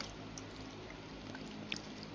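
Apple cider vinegar is poured into a cooking pot for paksiw sa gata, a quiet, steady liquid trickle with faint splashing and a small clink, and no talking.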